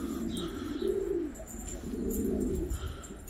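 Pigeons coo in a loft, several birds overlapping in steady low rolling calls that rise and fall close by, with faint chirps and occasional wing flutters behind.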